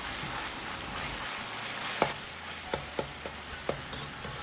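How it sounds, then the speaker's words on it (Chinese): Marinated shredded pork stir-fried in a wok over medium heat with a little cool oil, a soft steady sizzle broken by several sharp metallic clicks of a ladle pushing the meat. "接着保持中火下入腌好的肉丝，用勺子慢慢的推动"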